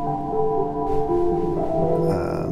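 Faust greyhole reverb effect running on a disting NT module, a big washy wash of sustained tones that smear together, with a soft noisy burst partway through and shimmering high partials near the end.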